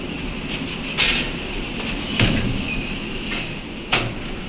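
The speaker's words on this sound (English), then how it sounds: "Let's close the door." Elevator door sliding shut in a Montgomery high-rise elevator in Chicago, heard as a few short thuds and clunks over a steady mechanical hum, with a final bump as the door seals.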